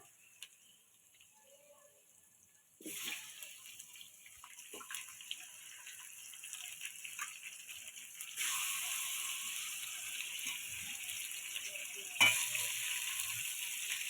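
Onion and green chilli sizzle in hot oil in a pan, then meat goes in and a louder, steady frying hiss takes over, with a sharp flare near the end.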